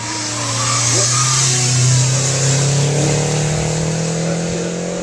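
At a sprint event, a turbocharged car accelerates hard close by, its loud engine note rising and holding through several gear pulls, with no talk over it.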